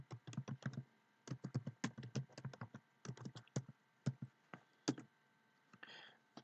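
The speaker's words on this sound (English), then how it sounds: "I'm just going to type in the relevant commands" Close, crisp clatter of fingers typing commands on a computer keyboard, bursts of rapid keystrokes separated by short pauses, alone in a quiet room.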